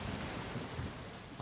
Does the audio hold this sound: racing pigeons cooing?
no